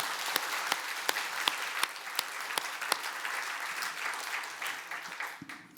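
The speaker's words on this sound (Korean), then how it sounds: "이와 같이 고백한 우리 모두를 향하여 박수로 환영하겠습니다" Applause from a congregation at a Korean Sunday morning church worship service, a steady moderate wash of clapping with distinct sharp claps punctuating it, fading near the end.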